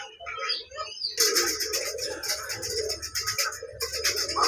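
Fancy pigeons on a farm flutter and chirp in a busy, close, continuous jumble of wingbeats and calls.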